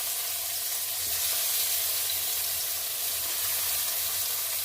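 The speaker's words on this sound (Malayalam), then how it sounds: "ഇപ്പം ഞാൻ വറുക്കാൻ വെക്കുവാണ് കേട്ടോ" Fish, such as sardines, hiss and sizzle as they fry in hot oil in a pan, a steady, loud, close crackle that goes on without speech.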